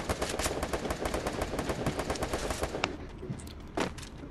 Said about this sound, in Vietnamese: Bên ngoài bắn nhau đông lắm.